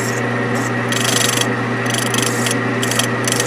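Hand file rasping across a machined metal part to take off a burr, a series of close, scratchy strokes in an uneven rhythm over a steady background hum.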